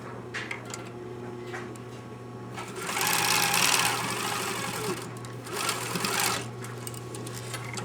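Sewing machine back-tacking at the top of a single lap zipper seam, a close mechanical whir in two short runs over a steady low hum, the second burst briefer than the first.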